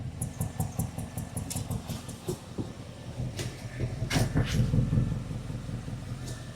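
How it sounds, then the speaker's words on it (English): A 2016 Audi A8L with the 4.0L engine idles with a misfire, giving an uneven low rumble with irregular pulsing beats, close and fairly loud, alongside intermittent clicks and brief mechanical noises. "You can definitely hear a misfire here"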